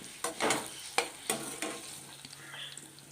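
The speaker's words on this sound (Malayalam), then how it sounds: "ചേനയുടെ ചൊറിച്ചിലെല്ലാം മാറി നല്ല ഒരു ടേസ്റ്റ് കിട്ടാൻ വേണ്ടിയിട്ടാണ് ഇങ്ങനെ വറുത്തെടുക്കുന്നത്" Pieces of elephant yam frying in hot oil, with a steady sizzle and several sharp spoon scrapes and stirring knocks against the pan, close and fairly quiet.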